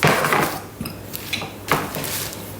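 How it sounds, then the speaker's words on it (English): Lid fitted onto a Thermomix bowl of broccoli with stems trimmed: a few sharp plastic clicks and knocks, close and fairly loud, spaced over a couple of seconds. "Put the lid on."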